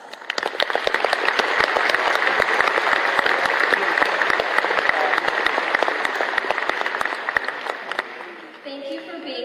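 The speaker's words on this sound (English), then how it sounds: "Let's give them a round of applause." An audience at a high school graduation commencement gives a round of applause, many hands clapping in a dense, loud, sustained burst that fades near the end, where a voice begins to speak.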